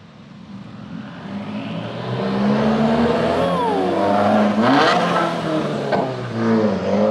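A Stage 3 Subaru WRX engine revving and rising in pitch, loud and roaring with a brief squealing whine near the end, steady rumble throughout.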